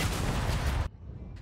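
A Gears 5 weapon fires three rockets at once, a loud dense blast of overlapping shots filling the first second before cutting abruptly to quiet, with a faint short click near the end.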